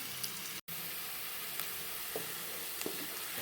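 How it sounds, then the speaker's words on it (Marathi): Small cut green chillies sautéing in a pan for restaurant-style dal khichdi, a steady close sizzle with a few faint stirring ticks and one brief dropout, no voices. "इथे मी छोट्या 2 हिरव्या मिरच्या कट करून घेतल्या होत्या त्या घालून घेते। छान आता हे परतून घेते मी।"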